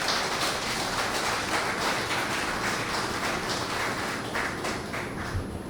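An audience at a Hindi poetry gathering welcomes the poet Sidharth Shandilya onto the stage with steady, dense applause that fills the hall evenly throughout.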